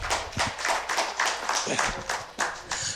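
An audience claps for a flag waver at an event, a steady burst of applause that fills the whole moment with dense hand claps and some voices mixed in underneath.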